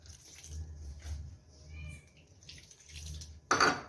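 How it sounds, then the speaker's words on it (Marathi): Water is poured into a flour and masala batter tinted with red food colouring for fried chilapi fish, giving quiet, intermittent splashing and trickling in short bursts, with a sharper splash at the end. "थोडासा फूड कलर आपण लाल कलर टाकून घेऊया आणि पाणी ओतून घेऊ"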